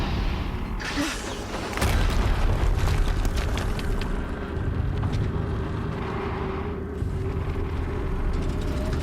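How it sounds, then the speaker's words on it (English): Explosions in the video game Horizon Zero Dawn: a heavy boom with a rumbling, crackling aftermath and mechanical clatter, followed by a sustained low roar and scattered impacts, loud and close. "Another explosion."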